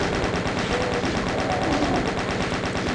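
Continuous rapid-fire shooting at enemies in Doom 2, on the Speed of Doom Dreamscape map: a dense, steady, unbroken stream of rapid shots at a constant loud level with no pauses.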